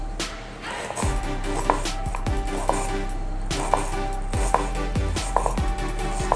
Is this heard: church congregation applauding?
no